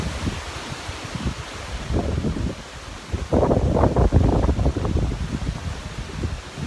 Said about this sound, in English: we still have 45-mile-an-hour winds all day